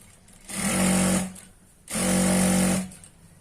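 A sewing machine stitches chudidar pant fabric in two short, loud bursts of rapid mechanical whirring about a second each, separated by a brief pause, close up with no talking.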